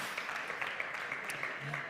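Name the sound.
audience applause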